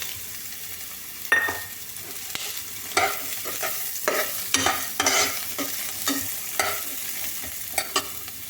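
Capsicum and beans fry in a pan while a spatula stirs them, making repeated scraping strokes over a steady sizzle at close range with no talking.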